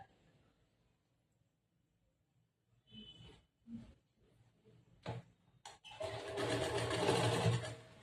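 After some quiet handling and fabric rustles, a sewing machine stitches the collar lining of a blouse, its motor whirring in a short, steady burst near the end.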